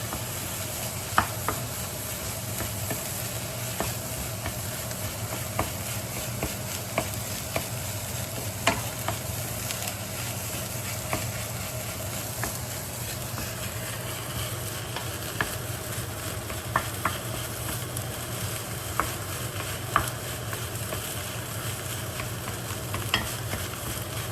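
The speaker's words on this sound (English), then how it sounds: "Okay, and then just mix, mix, mix, mix." Seasoning with soy sauce, sugar and pepper is stirred in a sizzling pan, a steady hiss under scattered sharp clicks and scrapes of a utensil, close and continuous with no talking.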